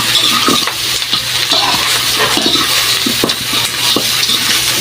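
Garlic and onion fry loudly in a pan of oil, a dense close sizzle broken by repeated scraping and stirring clicks, with no one talking.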